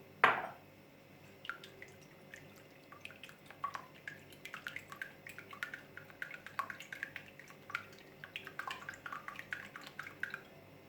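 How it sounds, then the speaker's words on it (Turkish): Two eggs being whisked by hand in a mixing bowl for crepe batter, giving a steady run of quick, light tapping and clicking strokes that continue throughout, close and fairly quiet, with no voices. "Öncelikle karıştırma kabımıza 2 adet yumurtamızı alalım ve güzelce çırpalım."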